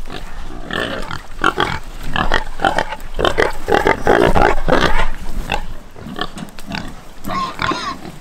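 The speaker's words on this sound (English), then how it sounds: "A lot of squealing going on." Pigs squeal and grunt loudly and continuously at close range, with overlapping shrill cries and busy rustling from a pen of agitated animals, and no talking.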